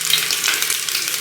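Sliced onions fry in a hot pan for an Indian egg curry, a loud, dense, continuous sizzle heard up close, with no talking.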